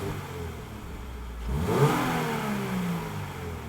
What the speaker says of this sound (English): Let's hear some stock revs.